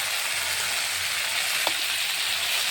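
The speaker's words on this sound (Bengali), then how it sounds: "হালকার জন্য হলুদ দিতে, মশলাটা সুন্দর করে কষিয়ে নিই।" A spice paste with turmeric for a prawn curry fries in a pan with a constant close sizzle, broken once by a brief scrape of the spoon, and no one speaks.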